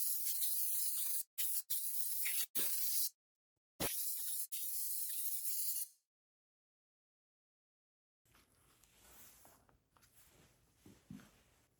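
Aerosol cleaner sprayed onto the carburetor mount and air intake parts of a Stihl MS270 chainsaw, loud hissing bursts in several short sprays with brief gaps, followed by quieter handling noises.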